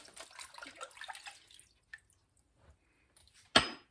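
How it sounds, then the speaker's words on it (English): Collard greens rinsed in clean water in a kitchen: soft splashing and trickling, quiet and intermittent, ending in one sharper splash. "then rinsing it off in your clean water"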